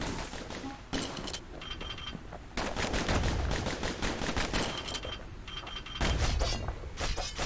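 Dual pistols fire in the video game Bastion, coming in several loud, rapid bursts with brief lulls between them and heavier impacts near the end.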